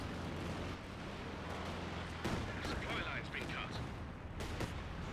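Artillery barrage thunders through a Company of Heroes 2 match, a dense continuous rumble of distant blasts with sharper crackling impacts and shots layered on top.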